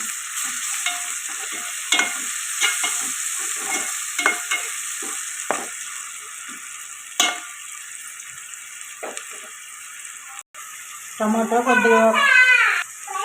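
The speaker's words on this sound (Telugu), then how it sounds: "ఇప్పుడు టమాటో పేస్ట్ వేసుకున్నాం. ఇది కూడా పచ్చివాసన పోయేదాకా ఫ్రై చేసుకున్నాం." Tomato paste fries in a pan for a fish curry: a bright, steady sizzle with scattered spoon scrapes and clicks, then a louder burst of stirring and a brief voice toward the end.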